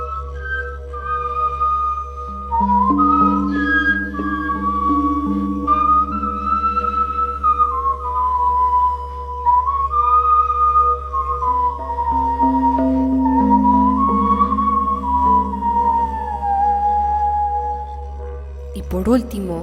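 Bone whistles imitate birdsong in a sustained, wavering melodic tone with sliding pitch, accompanied by lower held notes and a steady low hum.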